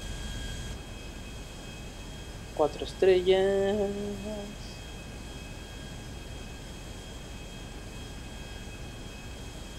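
A steady airplane engine drone from the game GTA V Online continues under a voice briefly talking, with a faint high whine running throughout.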